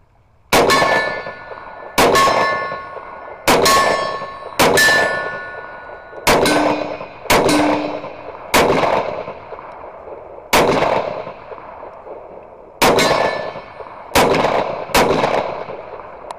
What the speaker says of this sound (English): Let's do some more shooting with it.